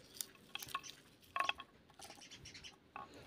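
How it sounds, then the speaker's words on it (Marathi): Water drips and patters softly from freshly washed safflower greens left to drain, in scattered light splashes at close range. "आणि आपली भाजी देखील छान निथळली आहे। पाहू शकता पाणी निघत आहे"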